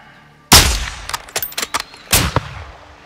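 Gunfire in the video game Call of Duty: Modern Warfare II: one loud close shot with a long echoing tail, followed by a quick run of sharper, quieter shots and a second heavy blast with decay.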